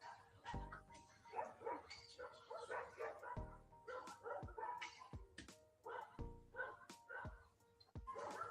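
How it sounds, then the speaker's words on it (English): A dog being beaten, heard through a played recording, gives repeated high yelps, whimpers and short barks in an uneven, distressed series over a noisy background. "Beating the dog senseless for what?"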